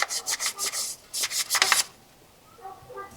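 Abrasive rubbing on the turbo intake tube of a 2012 Mini Cooper Countryman S: a close, rhythmic series of rasping back-and-forth scrubbing strokes in two bursts, then quiet with faint tones.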